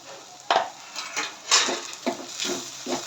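Sevai upma being sautéed in a pan: a handful of distinct scraping, clinking strokes of a spoon against the metal pan at a steady rhythm, close and moderately loud, with no talking.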